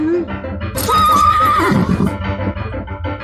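A horse lets out a loud, close, drawn-out whinny that rises and then shudders down into snorting, with a shorter call before it and muffled low sounds after.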